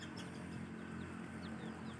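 Free-range chickens cluck faintly in a farmyard flock, a quiet, scattered murmur of soft calls over a steady low background hum, with no voices.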